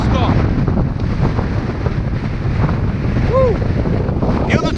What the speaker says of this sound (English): Where is this wind coming from?